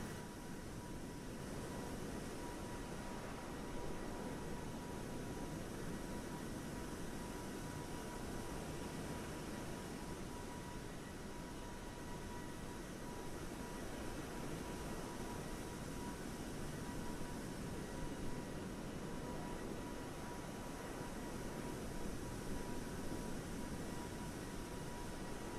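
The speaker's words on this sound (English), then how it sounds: "Is the plane too loud, guys?" Steady, unbroken jet engine roar from a Boeing 737 MAX 8 in Microsoft Flight Simulator 2020, a dense broadband hum with a faint constant tone running through it and no talk.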